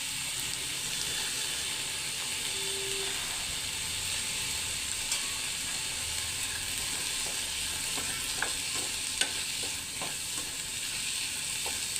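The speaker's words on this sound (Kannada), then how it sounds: "ಈಗ ಸಣ್ಣದಾಗಿ ಹೆಚ್ಚಿಕೊಂಡಿರುವ ಒಂದು ಆಲೂಗಡ್ಡೆಯನ್ನು ಸೇರಿಸ್ತಾ ಇದ್ದೇನೆ." Chopped potato and oysters fry in a pan with a continuous close sizzle and hiss, broken by occasional faint stirring clicks.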